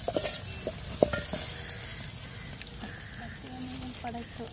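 Masala and onions frying in a pan for chilapi fish fry by a riverside, a soft steady sizzle with scattered clinks and stirring scrapes, voices murmuring faintly nearby.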